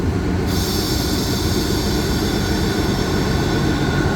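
Freight train cars of a Thai freight service being uncoupled at a station yard, heard as a loud, continuous rumble of rail wagons with metallic wheel squeal and hiss running steadily throughout, with no talking.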